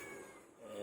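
A cat meows once in a short, fairly close call indoors, with a low background hum and no talking.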